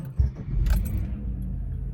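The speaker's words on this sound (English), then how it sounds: "Truck starts." Keys jangle close by, then a Chevrolet Silverado truck engine cranks and starts with a short low burst that settles into a steady idle rumble.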